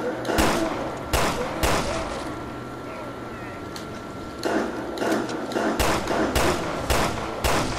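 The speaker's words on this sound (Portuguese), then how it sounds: "Eu errei uma pá de tiro ali, tá ligado?" Sharp gunshots in the video game Resident Evil Revelations 2, about a dozen loud cracks spaced irregularly over a steady mechanical hum, with some muffled game noise between them.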